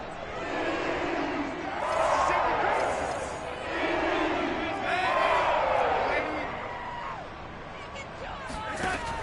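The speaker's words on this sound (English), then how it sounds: "that might be exactly what they needed to wake up this home crowd" A home crowd at an American football game roars in broad swells that rise and fall, with a commentator talking over the stadium noise.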